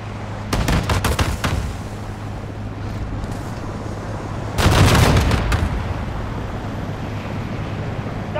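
Gunfire in Call of Duty Modern Warfare 2: a rapid burst of loud close shots, then a quieter lull, then a second heavy volley with booming blasts, over a steady rumbling battlefield backdrop.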